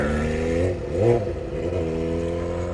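A small motor engine is throttled, its steady mid-pitched drone rising in one quick rev and then easing back to a level idle hum, close and fairly loud, with no talking.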